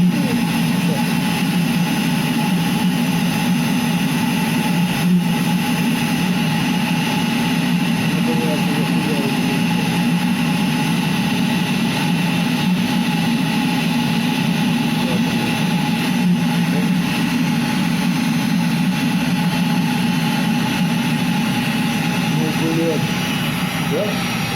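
An Eberspächer Hydronic D5WZ diesel coolant heater starting up after repair, giving a steady, loud whooshing hum with a low rumble that continues evenly throughout.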